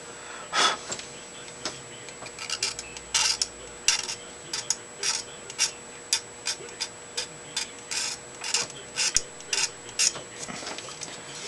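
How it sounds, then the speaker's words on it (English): A knife scraping the mold line off a small plastic part for a 1972 Plymouth Satellite 4-door, heard as a close series of short, dry scratching strokes in a loose, repeating rhythm, about twenty in all. "some people just scrape them off like I'm doing here"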